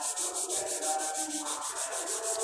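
Car body filler being sanded by hand with 36-grit sandpaper, a close, rhythmic scratching of quick back-and-forth strokes at a brisk, steady pace.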